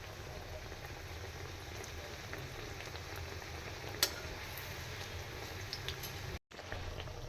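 Pointed gourd slices fry in oil with a soft, steady bubbling hiss, fairly quiet and even, broken by one sharp click partway through and a brief dropout near the end.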